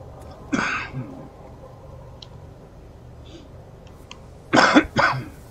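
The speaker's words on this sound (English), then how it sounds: "Sorry about coughing in you guys' ear." A person coughs close into a microphone while streaming No Man's Sky: one short cough early, then a louder double cough near the end, with quiet background between.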